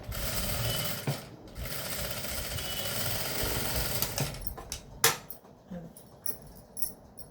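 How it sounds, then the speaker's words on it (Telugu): Sewing machine stitching cloth, a steady mechanical whirring run that continues for several seconds, then stops and starts in shorter bursts with clicks and handling noises, close and fairly loud. "క్లాత్ మనం జరుపుకునేటప్పుడు సూది కిందకు ఉండాలి, పాదం పైకి ఎత్తి రౌండ్ తిప్పుకోండి"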